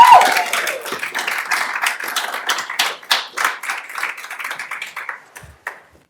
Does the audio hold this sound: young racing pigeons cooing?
no